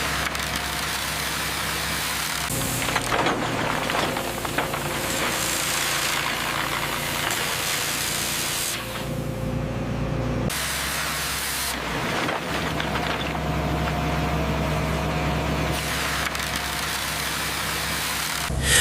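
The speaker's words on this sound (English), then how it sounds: "This large spinning saw is mounted onto an excavator boom and is powerful enough to cut through concrete and foundations." A large spinning saw mounted on an excavator boom cuts through concrete foundations at a demolition and construction site, a loud continuous grinding roar with an engine drone underneath, briefly dropping away around the midpoint before resuming.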